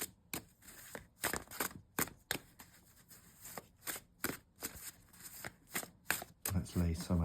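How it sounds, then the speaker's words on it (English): An art-paper 1788 Etteilla tarot deck is shuffled overhand up close, giving a quick irregular run of crisp papery slaps and flutters, with a voice briefly starting at the very end. "particularly for overhand shuffling like this"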